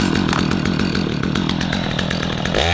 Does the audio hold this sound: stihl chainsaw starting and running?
yes